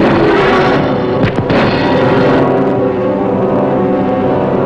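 A submarine torpedo launch in a war film, heard as a loud continuous roaring rush with a brief sharp thump partway through, filling the whole clip.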